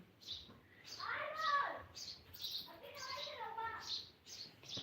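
A young bird chirps in a steady run of short, high peeps, about ten calls in five seconds. It is close by and mixes with nearby people talking.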